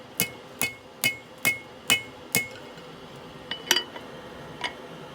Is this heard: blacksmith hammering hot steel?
yes